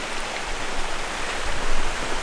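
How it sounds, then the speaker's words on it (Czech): Small mountain waterfalls in the High Tatras pour in a steady, close, broadband rush of falling water that swells slightly midway, with no voices over it. "Ale krásné, krásné tady vodopádky."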